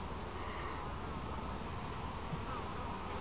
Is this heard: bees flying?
yes